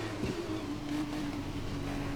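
Engine of an AlphaTauri F1 car in the racing game F1 2021, a steady high-pitched hum with a constant tone and a brief rev near the start, heard in-game without talk.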